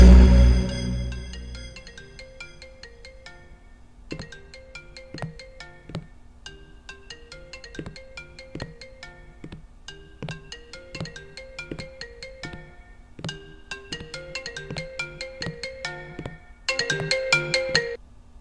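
A phone rings in a late-night shift video game with a bright, repeating electronic ringtone melody, loud and clear, cycling through several bursts with no talking.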